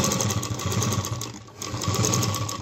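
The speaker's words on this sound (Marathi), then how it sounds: "ही स्ट्रेट शिलाई मारून घेते मी" A sewing machine stitches a straight seam on a homemade tiffin lunch bag, giving a continuous close motor hum with a rapid needle chatter that dips briefly midway and then resumes.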